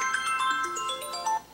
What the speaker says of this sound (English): Sorry about my phone, guys.